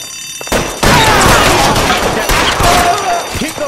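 Gunfire in the LA Noire video game crackles in dense, loud overlapping bursts after a brief quiet start, with shouted voices mixed in.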